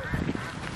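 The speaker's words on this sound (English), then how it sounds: "That's a Canadian geese." A few short honks from a Canada goose, close and fairly loud, with faint background chatter around them.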